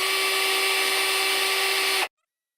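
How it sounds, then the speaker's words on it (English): A drill spinning a carbide primer pocket cutter on a 6.5 Creedmoor case whirs at a steady high pitch for about two seconds, then cuts off abruptly into silence. "you just chuck it up in a drill"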